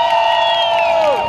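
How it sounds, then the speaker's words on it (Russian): Crowd cheering and whooping for a VAZ-2105 car at a stance car festival in Tyumen, a dense, steady roar with a shrill sustained tone that slides downward near the end. "Аплодисменты ему."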